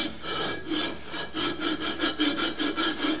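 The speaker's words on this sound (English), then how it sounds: "Now this is 60 grit, so it's pretty aggressive." Aggressive hand sanding with 60 grit sandpaper during a Grizzly G0776 tailstock repair: quick back-and-forth rasping strokes, about two or three per second, close and fairly quiet, with no voices.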